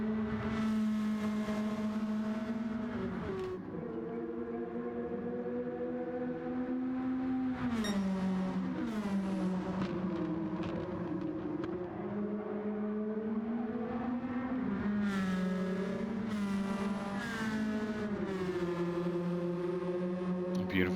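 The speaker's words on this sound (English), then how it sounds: "Beautiful sounding Sylvias. I am going to miss this car. Seeing it on track, hearing the beautiful engine noise" Nissan Silvia race car engines roar steadily in a racing video game, a sustained droning tone rising and falling as they shift gears, loud and continuous throughout.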